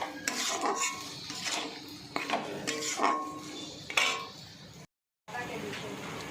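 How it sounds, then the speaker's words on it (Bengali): Fried taro stems and potatoes being stirred into spices in a cooking pot, with a metal spoon scraping and clinking against the pan in repeated strokes, close and fairly quiet. "এবার ভালো করে নাড়াচাড়া করে নিচ্ছি"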